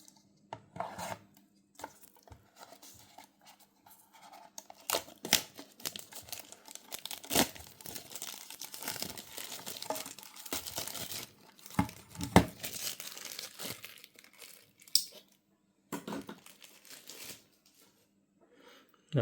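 A Bburago Lamborghini Huracan Performante model car is unboxed, with close, irregular crinkling, rustling, tearing and scraping of cardboard and plastic packaging in sporadic bursts, with brief pauses in between.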